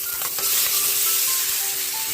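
Onion and chicken stir-fry in a hot pan, a loud continuous sizzle with scattered scraping and stirring noises throughout.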